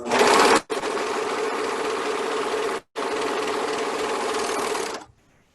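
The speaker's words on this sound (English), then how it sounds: "You'll want to serge this line as a finishing stitch." A serger sewing machine runs a finishing stitch along the narrow end of a fabric mask, buzzing loud and steady in close range in three bursts with two short pauses, then stopping.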